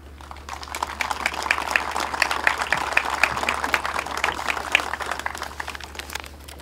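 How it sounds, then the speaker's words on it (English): Scattered, steady clapping from a modest audience at a community groundbreaking ceremony, moderately loud and continuous for several seconds over a low electrical hum. "You guys all deserve a really big round of applause for that."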